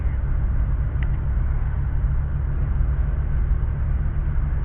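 Ride in a car heading home from a survival expo in South Carolina: a loud, steady low road rumble and engine drone with constant muffled cabin noise throughout, no voices.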